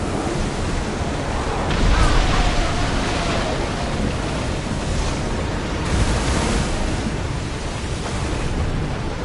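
A sailing ship pushes through ocean waves in Assassin's Creed Odyssey: a steady, loud roar of surf and wind with swelling washes of water, no clear voices.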